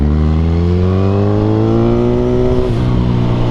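A Kawasaki Z1000 Sugomi with its 1000 cc four-cylinder engine, held in third gear on a city street, roars loudly and close with a steadily rising pitch, then a brief dip near the end as the throttle eases.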